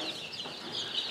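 Young chickens, day-old chicks in a brooder, give faint, soft continuous peeping and clucking chatter in the background, with no speech.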